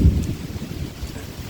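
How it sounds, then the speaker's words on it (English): Rain falls with rolling thunder near a porch, a deep rumble and steady patter close by, with no one speaking. "getting some rain here."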